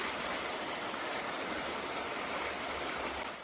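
A river with small rapids where pink salmon swim, steady broadband rushing water filling the whole stretch, even and fairly close with no other sounds standing out.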